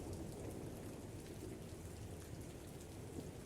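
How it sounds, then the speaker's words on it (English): Rain patters steadily on the wooden deck of a ship, a soft, even hiss of drops with a low rumble beneath and no voices. "The peaceful sounds of the rain now pattering a little heavier on the wood of the ship."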